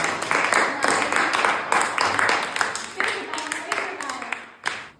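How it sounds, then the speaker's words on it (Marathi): Students clap for Soham after he solves a stick word puzzle in a classroom game, a dense, sustained patter of many hands that tapers near the end, with some voices mixed in. "सोहमसाठी टाळ्या वाजा एकदा"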